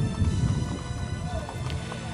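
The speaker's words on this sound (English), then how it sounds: "Beautiful horses." Horses' hooves clip-clop along the street during the 2014 Rosman, North Carolina Christmas parade, a brief run of close, uneven hoof beats over crowd noise and a voice in the background.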